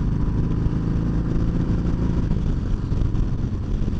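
A Harley-Davidson Sport Glide motorcycle on a morning commute produces a steady, loud engine drone with low rumble and wind rush, holding a constant pace without notable revving.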